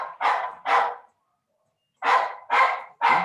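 A dog barks nearby in two bursts, two loud woofs, a second of silence, then three more evenly spaced barks, with no other sound.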